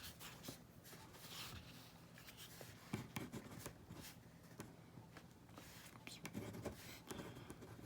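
A pen scratches across paper in quiet, close strokes, faint and continuous with small pauses, while someone speaks softly.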